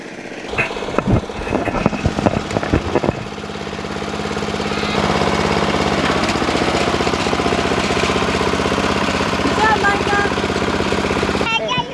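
A riding lawn mower's small engine starts up after some rattling clatter, then runs at a steady drone close by.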